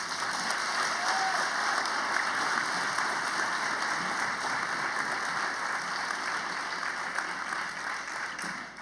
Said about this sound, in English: how about giving these boys a round of applause?